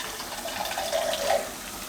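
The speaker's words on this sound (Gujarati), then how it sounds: "થોડુંક પાણી નાખી દે" Water poured from a vessel into a cooking pot of rajma and potato curry, a steady running splash at moderate level for about two seconds, swelling slightly near the end, with no talking.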